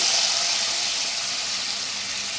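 Quartered onions lightly frying in a pan give off a steady, even hiss that fades slightly over a couple of seconds, alone and fairly close.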